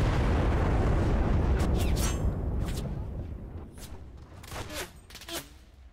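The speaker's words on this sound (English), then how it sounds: "someone's shooting me" Gunfire and explosions from the online World War II shooter Enlisted, a dense, loud barrage of shots and booms at first that thins out into scattered bursts and single cracks toward the end.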